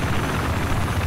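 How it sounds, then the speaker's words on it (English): An enemy helicopter in the video game Battlefield 4 flies close by, its loud, steady rotor thrum and engine roar filling the whole moment with no talk. "Enemy helicopter south of your position."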